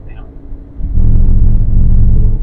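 A 2004 Mercedes-Benz CLK200 W209 Sport Coupe rumbles low, then its engine swells loudly as it accelerates hard in traffic, heard from inside the cabin.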